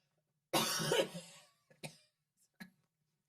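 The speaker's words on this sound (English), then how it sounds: "Just had to old man cough" A sharp, harsh cough bursts out close by, followed by a few smaller throaty coughs and clearing sounds that trail off into quiet.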